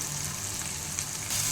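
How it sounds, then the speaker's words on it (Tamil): Ground masala paste for an anchovy curry sautés in hot oil, a steady close hiss and sizzle that swells slightly louder toward the end. "இந்த எண்ணெயிலேயே உங்களுக்கு நல்லா ஃப்ரை ஆகணும்"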